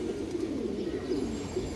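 A pair of pigeons coos in low, continuous murmuring tones at close range, steady and unbroken with no voices.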